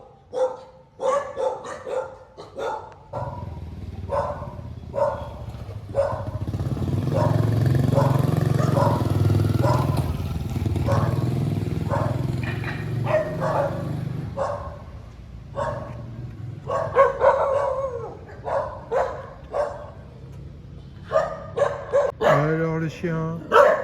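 Dogs at a Khmer pagoda near Tra Vinh, Vietnam, bark in sharp repeated volleys. A motorbike engine drones beneath them for a stretch in the middle before the barking picks up again, loud and close.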